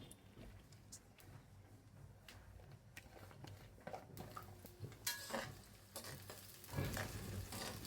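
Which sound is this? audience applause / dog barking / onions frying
onions frying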